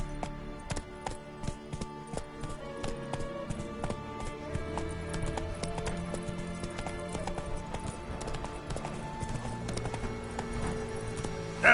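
Hooves of the horse Roach in The Witcher 3 give a rhythmic clip-clop at a steady trot over game music, each step a crisp tap, close and clear throughout.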